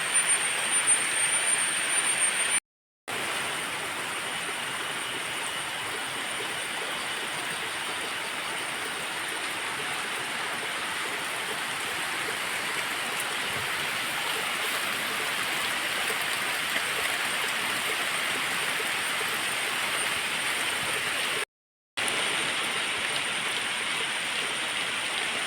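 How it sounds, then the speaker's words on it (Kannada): Steady rain falling outdoors, an even broadband hiss that stays constant and fairly close throughout, briefly cut out twice with no voices over it. "ಮಳೆ ಬರ್ತಾ ಉಂಟು ನೋಡಿ."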